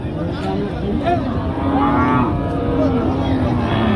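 Cattle at a village cattle market near the border, with a cow lowing nearby over a steady crowd din and people talking.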